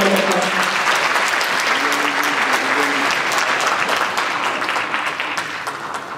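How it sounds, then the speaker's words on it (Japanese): Steady, dense applause from a lecture-hall audience after a special talk at a traditional performing arts festival in Nihonmatsu, sustained for several seconds with a brief voice at the start before fading slightly at the end. "皆様、長谷先生に本当に大きな拍手をお願いします。"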